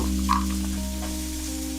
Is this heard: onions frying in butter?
yes